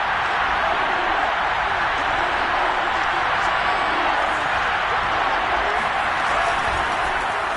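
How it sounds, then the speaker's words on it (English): Dense, steady stadium crowd roar inside a domed arena in the Madden 22 football game, a constant loud wash of noise with no breaks and a faint sense of voices under it. "The crowd here in the Dome making things difficult."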